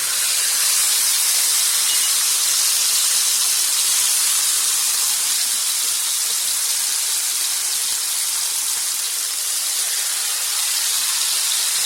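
Marinated steak of ground chuck frying in hot popping oil, a loud, dense, continuous sizzle and hiss heard close up with no talk.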